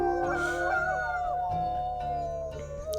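A wolf howls back in the video game Wildfire, its sustained, wavering call near and clear. The howl slowly falls in pitch over a low steady drone, and a short sharp accent comes at the end.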